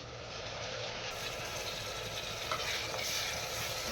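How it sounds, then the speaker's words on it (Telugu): Chopped tomato pieces frying in oil in a pan and being stirred, with a steady broadband sizzle and faint scraping that continues without pause at moderate level, close by. "ఇప్పుడు కట్ చేసిన టమాటా ముక్కలు వేస్తున్నాము."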